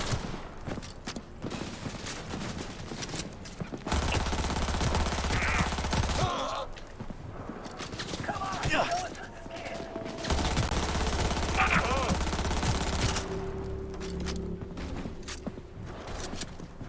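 Sustained automatic gunfire in Cyberpunk 2077 comes in two long, loud bursts of several seconds each. Quieter stretches in between carry mechanical clicks and combat ambience.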